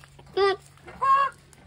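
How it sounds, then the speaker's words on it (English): Chickens at a home in Cyprus, heard as two short, loud, harmonic calls about half a second apart, squawky and honk-like rather than a steady cluck. "We have chickens."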